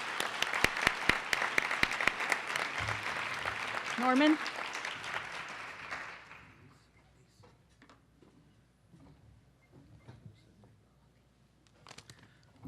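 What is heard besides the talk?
audience applause at award luncheon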